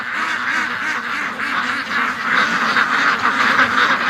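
Ducks quack continuously in a loud, dense flock close by, their overlapping calls filling the scene with no pause, out on a lawn where they feed on weeds.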